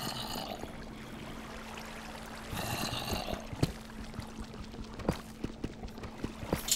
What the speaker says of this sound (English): there's the source of water.